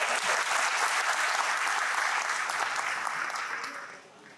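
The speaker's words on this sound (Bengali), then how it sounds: "সবার জন্য একটা তোমরা সবাই জোরে একটু হাততালি দাও" An indoor audience at a career keynote applauds the football registrants, a dense, steady round of clapping from many hands that fades out near the end.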